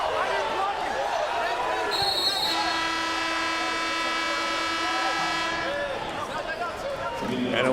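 A referee's whistle sounds during an NCAA basketball game between New Mexico State and Utah Valley, a sustained shrill tone heard over crowd noise and a commentator talking.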